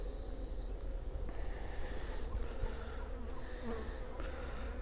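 Dense honeybee buzzing rises steadily from an opened hive with well-stocked frames and larvae, a continuous close drone with no talk over it.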